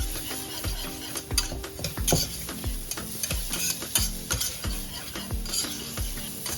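Shallots and garlic sweat in a pan, a soft steady sizzle with repeated clicks and scrapes of stirring throughout, close and moderately quiet, with no talking.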